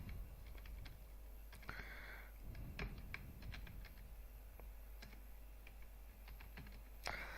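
Typing on a computer keyboard while entering salesman names into an Excel sheet, a steady run of quiet close keystroke clicks with brief pauses, no voices.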